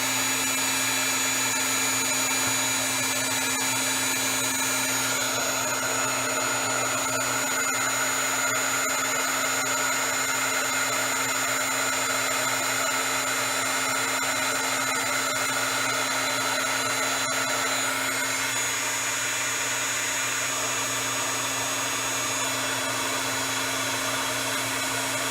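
Heat tool heat-setting magical beads runs as a loud, steady blowing whine with a constant low hum, continuous and close for the whole stretch, with no talking.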